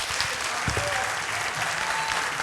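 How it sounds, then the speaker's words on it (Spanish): Steady applause from an audience at an open neighborhood talk by Axel Kicillof in Azul, Buenos Aires, a sustained dense clapping that fills the space evenly, with a brief faint voice rising over it. "Fuerte el aplauso para Axel Kicillof."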